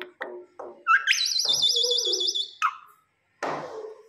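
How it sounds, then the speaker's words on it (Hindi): A pet mynah bird calls and chatters close by: short clicks and squawks, a long warbling whistle, then more harsh chirps and a raspy call after a brief pause. "किस तरह बोलती है मैना।"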